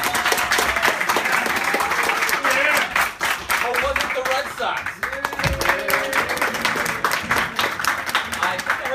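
An indoor crowd at a JTF Deathmatch game night claps and cheers to vote for a team, a dense sustained wash of applause with a host speaking over it.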